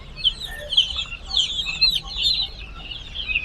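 Chickens cluck and cheep at a poultry shop selling duck and chicken chicks, with a steady chorus of close, high-pitched calls overlapping without pause.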